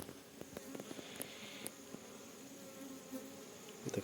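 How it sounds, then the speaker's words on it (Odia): Honeybees swarm around flowering vines outdoors, giving a steady faint buzzing hum with scattered rustles and brief clicks, no voices. "ଇଏ ହେଉଛି ଡ୍ୟାନ୍ସିଂ ହନିବି"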